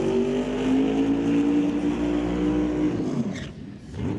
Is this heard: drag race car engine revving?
yes